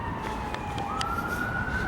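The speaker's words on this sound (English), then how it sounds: "Oh, and I can hear sirens." A wailing emergency siren rises in pitch over steady background noise in Preston, sounding moderately distant and continuous.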